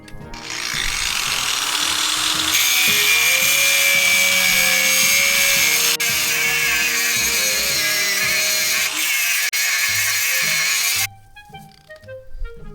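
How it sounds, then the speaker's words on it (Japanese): An angle grinder grinds down a metal power steering pump bracket on a Subaru, a loud, close, sustained high whine with shifting pitch as it bites into the metal, then cutting off abruptly near the end. "今からグラインダーで削って穴位置合わせていこうと思います"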